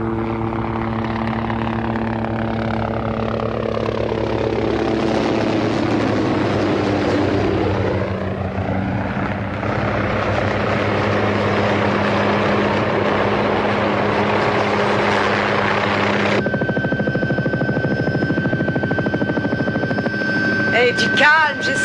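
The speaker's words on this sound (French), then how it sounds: "j'ai 500 heures de vol sur cet hélicoptère" A helicopter drones steadily with a whirring rotor and engine hum, its pitch sweeping as it passes, then the tone shifts abruptly partway through; voices talk over it.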